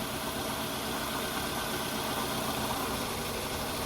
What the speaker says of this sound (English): the engine noise has changed, so that is not the problem